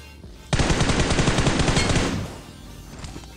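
A rapid automatic burst from a gun in a shooting video game, about a second and a half of dense, loud, evenly spaced shots that stop abruptly, leaving quiet background.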